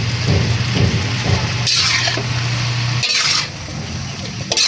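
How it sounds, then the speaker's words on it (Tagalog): Cabbage and beans sautéing in a pan for pancit, loud stirring with spatula scrapes and clatter against the metal over a background sizzle and a low hum that cuts off. "ginisa na rin po niya yung repulyo at saka beans"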